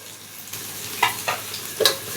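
Koi fish curry sautéing under a lid in a pan gives off a steady soft sizzle, with a few brief clinks and scrapes scattered through it and no voices.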